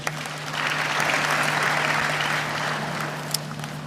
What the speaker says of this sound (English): A round of applause for Professor Gomez.